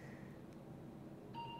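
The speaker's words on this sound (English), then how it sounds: "the beep means that the computer is recording it" A faint electronic beep from a computer recording head position in an MEG brain scanner, a short pure tone near the end over quiet room hum.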